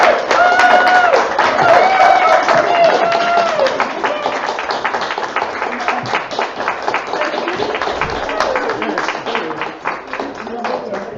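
Sustained applause at a Sunday service for a man's wife, many hands clapping with cheers and voices mixed in, loud at first and gradually thinning out over several seconds.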